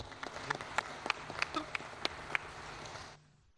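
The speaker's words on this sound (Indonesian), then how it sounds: "Mari kita berikan tepuk tangan yang meriah." Applause from an audience at a ceremony marking 43 years of the Indonesian capital market, heard as a fairly faint spatter of individual claps that stops abruptly near the end.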